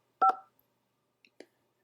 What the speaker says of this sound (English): You can also use the keypad on your keyboard.